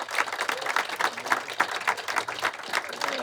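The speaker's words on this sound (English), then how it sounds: "let's just give one more round of applause to our 8 recipients today" A crowd applauds the eight recipients at a commemorative brick ceremony, a dense, continuous, fairly loud burst of many hands clapping with no talk over it.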